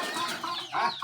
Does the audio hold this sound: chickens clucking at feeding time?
yes